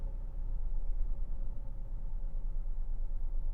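A Citroen C1, Peugeot 107 or Toyota Aygo engine with a freshly cleaned idle control valve runs at a steady, deep, even rumble. It is close and fairly loud, with no clear rise in revs, and no one speaks.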